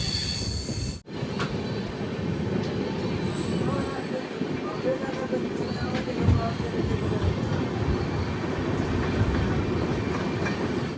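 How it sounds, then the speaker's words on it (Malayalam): The Matsyagandha Express rolls along the tracks with a continuous rumble and rhythmic rattling, wheels faintly squealing, heard from on board at close range near Bhatkal station. "ട്രെയിൻ ഇപ്പോൾ ബത്കൽ റെയിൽവേ സ്റ്റേഷനിലേക്ക് എത്തിയിരിക്കുകയാണ്."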